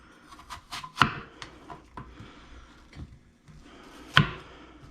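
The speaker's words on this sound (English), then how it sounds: "Once your apple is fully naked, you can just start cutting away with your knife." A knife cuts through a peeled apple, giving several soft, sharp chops with two firmer strikes, close and fairly quiet with no talking.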